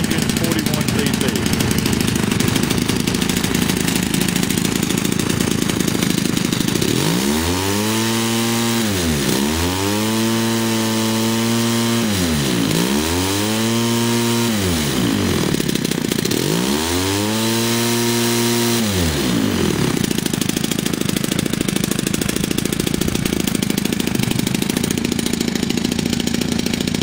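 A small 41cc US Engines RC gasoline engine with a loose muffler runs loudly, revving up and down in several sweeping rises and falls before settling back to a rough idle.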